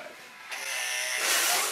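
Electric hair clippers buzz steadily through a home haircut, the hum stepping up in loudness partway through and growing louder and harsher near the end as the clippers malfunction against the scalp, with no talk over it.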